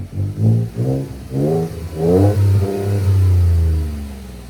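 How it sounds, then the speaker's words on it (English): A 2015–2022 Ford F-150 2.7L EcoBoost V6 with a PPE cat-back exhaust revs repeatedly, each throaty rise climbing in pitch, then settles into a deep, rumbling idle through a loud, burbly exhaust. "Man, it sounds like a diesel. Hey, rev her up, Jake."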